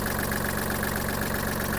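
Kubota GL-320 Japanese mini tractor engine idling steadily after an oil, fuel and air filter change, a close, even mechanical chug with no voices.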